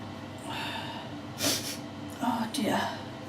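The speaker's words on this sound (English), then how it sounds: "I'm sorry for the sniffling as well." Wet sniffles through the nose, two short bursts about a second apart, near and moderately loud against a quiet indoor room while someone braids very long hair.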